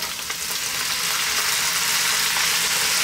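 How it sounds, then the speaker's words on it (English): Tomatoes hit a hot pan in a steady, close sizzle of frying that holds loud and even throughout, with no voices. "We're now gonna add those tomatoes."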